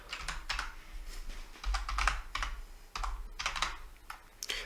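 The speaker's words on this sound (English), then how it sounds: "Just go here and type tradingview.com." Typing a web address on a computer keyboard: quick bursts of close, crisp keystrokes in an irregular rhythm, fairly loud, with no talking.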